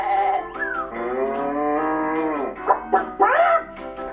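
People in a hall imitating farm animals, with a long drawn-out human moo followed by several shorter bleating and barking vocal imitations, loud and close.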